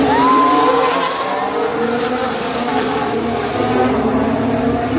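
Formula 1 cars running at the Singapore Grand Prix street circuit, a steady high-pitched engine whine with shifting harmonic tones holding loud throughout, no voices over it.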